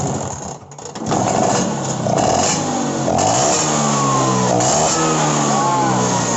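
A motorcycle engine idles with a rough, buzzing putter during a carburetor test, dipping briefly before settling into a steady, uneven running note close by.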